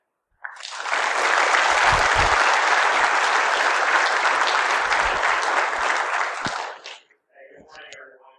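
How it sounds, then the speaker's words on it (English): An audience claps in welcome for a major general at a cyber-focused event, strong, close applause starting abruptly and running about six seconds before cutting off, followed by a brief murmur. "So please join me in giving a very special welcome to Major General Fogarty."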